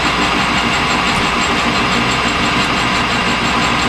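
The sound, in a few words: machine running at about 600 RPM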